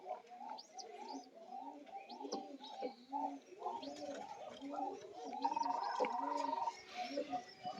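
A Giribaj pigeon, a female of an old bloodline, coos in repeated soft throaty phrases at a steady rhythm, close and clear, with faint background noise.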